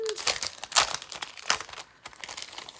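A sheet of small puffy craft stickers is handled close by, producing repeated soft crinkling and crackling bursts in an irregular rhythm, fairly quiet throughout.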